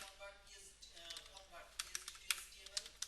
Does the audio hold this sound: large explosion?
no